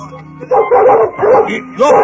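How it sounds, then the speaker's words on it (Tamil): A newly acquired dog straining on its leash gives several loud, close barks and yips in quick uneven bursts, with people talking around it. "புது நாய் இழுக்குது, யாருக்கு கட்டுப்பட மாட்டேங்குது"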